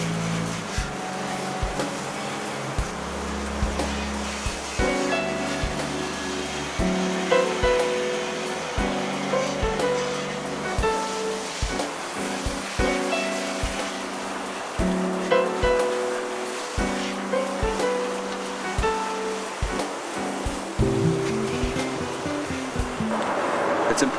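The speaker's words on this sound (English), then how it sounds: "get your hose right up in there to make sure that you're flushing it with fresh water." A garden hose sprays fresh water up under a boat trailer to flush it, a continuous broadband hiss of spray that holds steady throughout, with music playing underneath.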